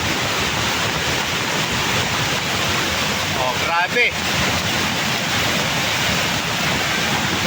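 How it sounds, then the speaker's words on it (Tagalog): Roaring, turbulent floodwater rushes down a mountainside in a loud, steady wash, with a man briefly exclaiming partway through. "Talagang nag-aalimpoy sa galit ang tubig"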